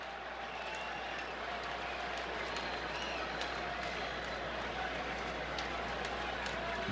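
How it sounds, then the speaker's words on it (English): Steady crowd murmur and scattered clapping fill a Red Sox home game at Fenway against the Twins in 1999, a continuous wash of spectator noise at moderate level without a sharp cheer peak. "Crowd trying to get things going here."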